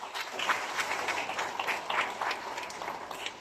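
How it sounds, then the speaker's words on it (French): An audience at a certificate ceremony gives a steady round of applause, many hands clapping in a dense patter at moderate volume, with no speech over it. "Bravo, un applaudissement pour Madame."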